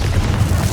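Confringo fire spell blast in Hogwarts Legacy on PS5, a steady loud booming burst lasting under a second, deep and rumbling with no gap or talk.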